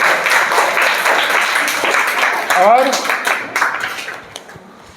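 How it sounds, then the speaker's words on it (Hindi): Students in a classroom clap together for a few seconds, a dense burst of applause that thins toward the end, with a teacher's voice speaking over it. "ताली बजाइए।"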